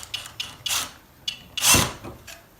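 Cordless impact driver sinking a screw into a wall plug: a few short rattling bursts separated by pauses, with one longer, louder hammering burst near the middle, close and without talk.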